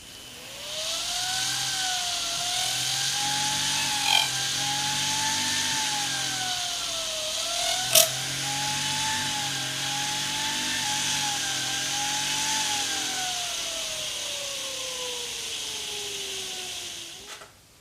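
Homemade siren disc with an airstream held on one row of holes while the wheel speed changes: a loud, steady whistling tone over a constant airy hiss. It wavers up and down in pitch, then glides smoothly downward at the end.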